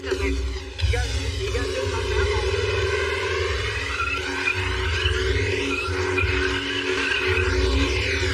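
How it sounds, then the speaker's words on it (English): Split-bumper Chevrolet Nova burning its tires, a loud, steady engine roar and drone with squealing, skidding tires running continuously for several seconds. "this thing it will burn the tires off the wheels"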